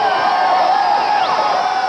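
A dense Mardi Gras parade crowd in New Orleans cheers and shouts continuously, a loud, steady wash of many voices close by.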